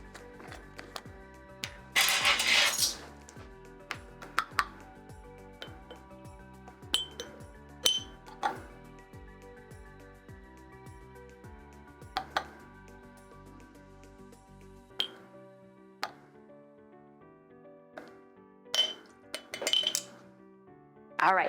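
A spoon clinks against glass jars as vinegar is added for natural egg dyeing, with scattered sharp clinks and taps at irregular intervals, fairly close and otherwise quiet.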